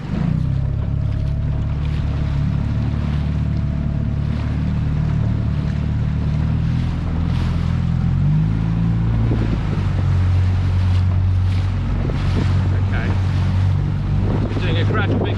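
Offshore fishing boat about five miles out on choppy sea, a constant deep engine drone with wind buffeting the microphone and waves slapping against the hull, loud and unbroken throughout.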